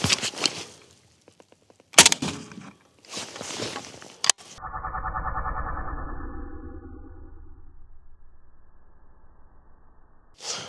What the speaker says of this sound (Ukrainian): Постріл.